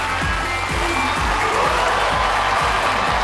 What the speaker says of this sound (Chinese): 今天我们用热烈的掌声来欢迎我们心目中敬爱的李琦老师